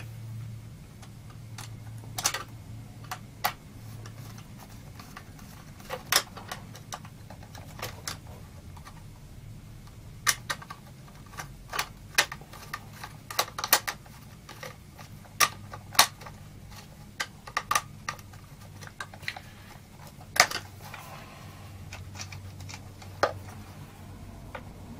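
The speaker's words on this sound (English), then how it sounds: "let's put the screws back in." Screws being fitted back into a Soviet joystick during reassembly: sparse, sharp little ticks and clicks, scattered irregularly and fairly close, over a faint steady hum with no talking.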